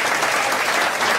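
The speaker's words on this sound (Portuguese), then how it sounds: "Vamos aplaudir, minha gente," An audience claps for a forró band with zabumba, clarinet, triangle and bass, a dense, steady burst of applause filling the short moment.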